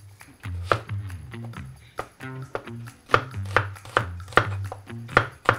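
Sharp knife strokes chop through an onion on a cutting board, a steady run of about a dozen close, crisp taps with brief pauses, alone with no talk.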